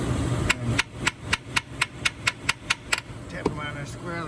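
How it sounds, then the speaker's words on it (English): A hammer taps a socket squarely onto rusty bolt heads on a 2016 Ford F-150 while the camshaft solenoid is being serviced: about ten sharp, evenly spaced metallic knocks, close and loud, over a low background hum. "Tap them on there squarely with a hammer."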